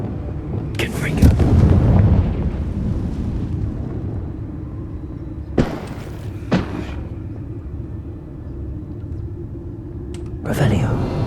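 Confringo fire spell blasts in the Hogwarts Legacy video game: several booming, rumbling bursts, a big one early, two more mid-clip and another near the end, over a steady low game rumble.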